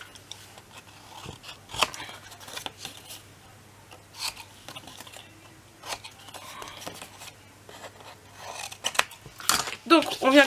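Paper for a scrapbook album being cut at bevelled corners, with scattered sharp snips and rustling scrapes spread irregularly, closer and busier toward the end, and faint talk in the background.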